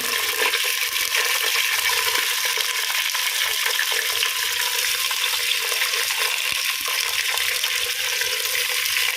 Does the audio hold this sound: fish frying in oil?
yes